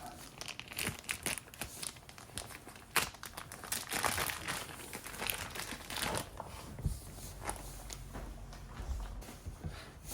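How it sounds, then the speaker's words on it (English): Plastic wrap being pulled off a smoked Christmas ham, close crinkling and tearing that crackles continuously in uneven bursts. "Let's get that plastic off."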